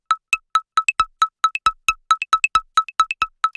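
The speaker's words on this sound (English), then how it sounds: "Then we have this little thing that I call a plonk," Short plonky synth bloops in a techno track, plucked blips played across two octaves in a bouncy repeating pattern, dry and alone with clear gaps between hits.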